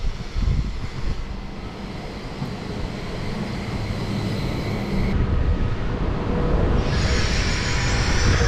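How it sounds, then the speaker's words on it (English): A train pulls into New Songjiang Station in China with a broad, steady rolling roar, growing gradually louder over several seconds and picking up a brighter hiss toward the end as it comes close. "And here comes the train."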